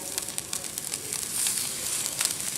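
Scallops sear in a hot iron skillet with steady, close sizzling and fine crackling spatter, alone and without any voices.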